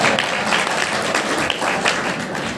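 A crowd applauds at a Hindi poetry recital, a dense, continuous patter of many hands clapping at steady loudness with no pauses.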